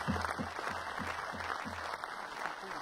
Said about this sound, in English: A huge round of applause for the Ball Girls from Wickham High School for Girls.